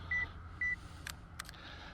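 Two short electronic beeps from a LUMIX S5ii camera's two-second self-timer, outdoors on a misty morning, followed by faint shutter clicks, all quiet against low background hiss.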